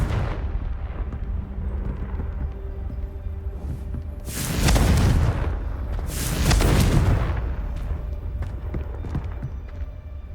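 Two deep, roaring blasts from a Confringo fire spell in Hogwarts Legacy erupt a couple of seconds apart over a steady rumbling game backdrop. Each is loud and heavy, with a rolling crackle as it fades.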